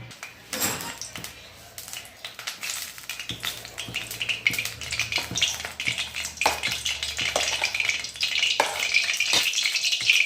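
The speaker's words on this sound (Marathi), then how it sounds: "तेल तापलेलं चला आता मी याच्यामध्ये भजे एक एक करून सोडत आहे" Ridge gourd bhaji fritters dropped one by one into hot oil, giving a dense, continuous crackling sizzle broken by occasional sharper splashes and pan clinks, close and fairly loud, with no voices.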